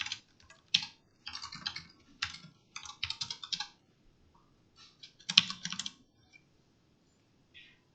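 Bursts of computer keyboard typing while writing code, quick clustered keystrokes in several runs separated by short pauses, close and clear with no talking.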